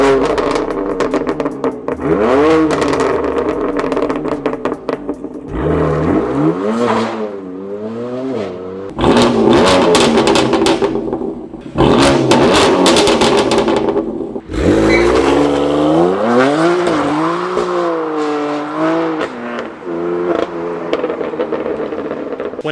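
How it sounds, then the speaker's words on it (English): A car with an S55 engine on its stock exhaust revs repeatedly, rising and falling in pitch with a raspy, crackling tone, loud and close with short pauses between pulls. "I'm gonna run some sound clips of how the car sounded when it was stock."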